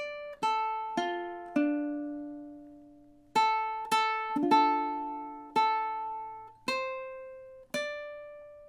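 A ukulele picks out two measures of a song, a run of about a dozen plucked notes and chords with uneven spacing, each ringing and fading, close and unaccompanied.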